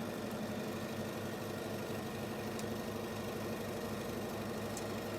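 A sewing machine runs continuously while stitching a quarter-inch seam on a pillow back, a steady fast mechanical whir and rhythmic needle chatter, close and even throughout.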